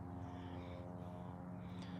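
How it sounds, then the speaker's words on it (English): A propeller airplane drones steadily overhead at a distance, a low continuous engine hum with no talking over it. "You hear the plane?"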